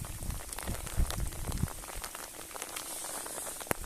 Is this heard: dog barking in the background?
no